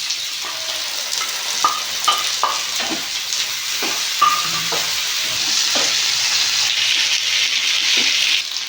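Ginger-garlic paste with green chillies and tomato frying in oil for a Bengali rui fish kalia: a steady hiss and sizzle broken by repeated scraping stirs of a spoon, close and with no talking.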